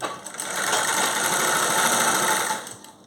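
A sewing machine stitching the zipper on a pair of pants runs in one continuous, close buzzing burst of rapid needle strokes for about two seconds, starting and stopping cleanly with no talking.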